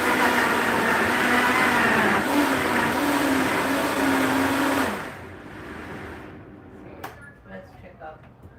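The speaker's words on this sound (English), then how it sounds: "I have a Vitamix high-powered blender." A Vitamix high-powered blender whirs loudly and steadily while blending salsa, its motor pitch rising slightly partway through before it cuts off after about five seconds, leaving quieter room sound.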